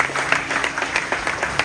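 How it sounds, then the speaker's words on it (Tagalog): A church congregation claps in worship, a short burst of lively, moderately loud applause with quick uneven claps from many hands filling the room. "Pwede bang isang malakas sa palakpak para sa Panginoon na buhay?"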